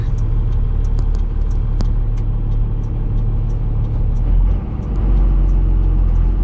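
A Cummins diesel truck engine rumbles low and loud from inside the cab as the truck pulls away in second gear, with a steady drone, a brief dip, then a deeper surge.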